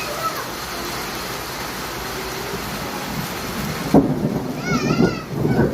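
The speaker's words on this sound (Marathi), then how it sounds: "आणि गडगडते सुद्धा." Thunder rumbles through steady heavy rain in an unseasonal downpour at a petrol pump in Konkan. A continuous wash of rainfall, with a voice speaking over it in the final seconds.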